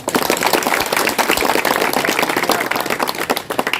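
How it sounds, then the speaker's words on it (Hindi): A gathering at a new cement road's inauguration in a city ward bursts into sustained applause, dense continuous clapping from a crowd throughout, loud and close with a few cheers mixed in. "सब एक बार पुरजोर तालियां बजा करके"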